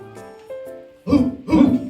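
A person imitates a sea lion with two loud, gruff barking bursts, following softer voiced sounds.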